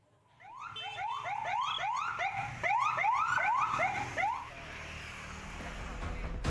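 A wailing ambulance siren with rising and falling sweeps, fairly distant and moderately loud, fading off into background noise toward the end.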